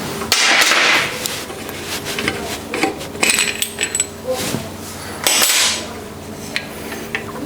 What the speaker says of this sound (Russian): Далее откручиваем этот болт.